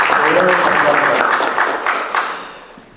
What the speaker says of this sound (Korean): 다 뜨겁게 박수 한번 하겠습니다.